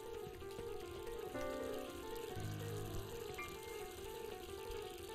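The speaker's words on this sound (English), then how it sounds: "Turn on the water." A tap running in Untitled Goose Game, with a steady stream of water splashing and filling at moderate volume for the whole stretch, set against tonal background music and no talking.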